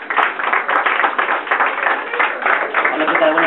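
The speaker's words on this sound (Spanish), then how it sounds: "les pido un fuerte aplauso para Alberto Robles." An audience at a poetry reading in Boston claps loudly to welcome a poet, the applause dense and close with voices mixed in over a narrow, muffled recording.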